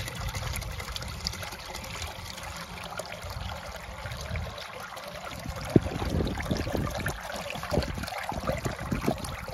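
Water streams steadily into a bucket from a Cobett automatic waterer, a continuous close trickle and splash with small knocks and bumps.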